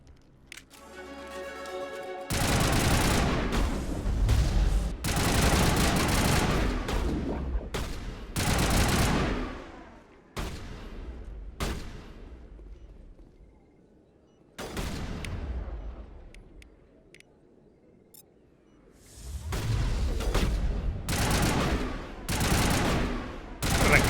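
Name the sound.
gunfire in Mass Effect Legendary Edition video game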